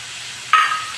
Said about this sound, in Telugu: ఇప్పుడు కొద్దిగా కరేపాకు వేద్దాము